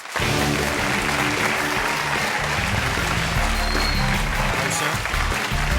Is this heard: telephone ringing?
no